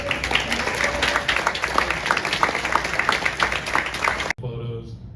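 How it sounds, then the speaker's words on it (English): Conference audience at a Tuskegee Airmen gathering gives a sustained round of clapping, busy and fairly close, cut off abruptly and followed by a voice starting to speak. "Could we have another round of applause for"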